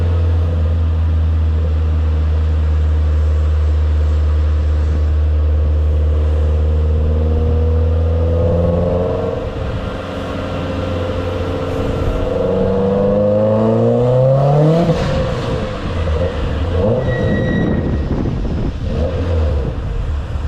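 A 2006 Subaru WRX engine drones steadily on a dyno, then climbs through several sweeping revs that rise and fall, loud and continuous throughout a run with no talk.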